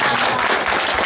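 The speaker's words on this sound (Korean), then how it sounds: "함께 하신 분들을 위해서 큰 박수 부탁드리겠습니다" An audience at a disability welfare policy forum claps in a brief, dense burst of applause that fills the room evenly from start to finish.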